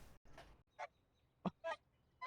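A duck in the video game An Eggstremely Hard Game lets out a few short, faint nasal honks, spaced unevenly among other quiet bursts.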